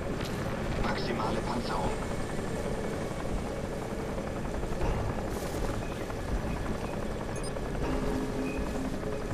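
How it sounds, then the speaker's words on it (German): A helicopter's steady rotor drone in the video game Crysis fills the scene continuously, loud and close, with game ambient noise and faint voices underneath. "Ich höre aber irgendwo wieder einen Hubschrauber."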